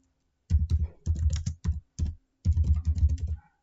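Someone types a message on a computer keyboard in quick close bursts of clattering keystrokes, separated by short pauses, clear and without speech.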